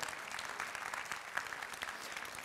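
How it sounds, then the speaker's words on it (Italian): An audience at an archaeology talk gives a welcoming round of applause, an even, moderately distant patter of clapping with no speech. "l'applauso è necessario"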